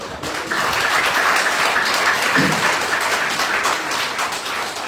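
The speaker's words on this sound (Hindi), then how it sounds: "मैं शानदार ताली चाहूंगा हमारे हिंदुस्तान में इस ग्रेट पर्सनालिटी के लिए" Audience applause for a guest at a business seminar in India, a large crowd clapping in a dense, loud, sustained wash that swells quickly and holds steady.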